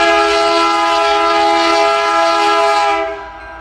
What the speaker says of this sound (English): it looks like a brace of Chevy's Electromotive Division SD75Is.